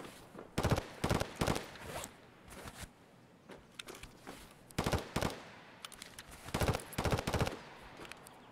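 In a video game where players team up against bosses, automatic weapons fire in loud, rapid bursts of sharp cracks, separated by short pauses.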